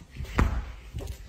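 A door slams once with a sharp, fairly loud thud inside a store, followed by a softer knock a moment later amid a low background murmur.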